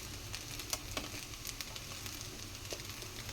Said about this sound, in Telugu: మ్యాగీ అనేది నేను వేసుకొని బాగా ఫ్రై చేసుకున్నాను